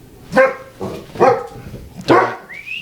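A dog barks indoors in three loud, close, spaced barks, the last one trailing into a short whine, with no talk over it.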